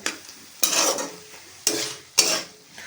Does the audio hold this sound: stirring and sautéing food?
yes